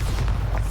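A Bombarda spell explosion in Hogwarts Legacy, one short, deep, rumbling boom of under a second.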